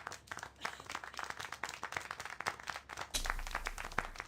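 Several hands clap and applaud steadily in a small, close group, a dense patter of sharp claps that swells slightly toward the end.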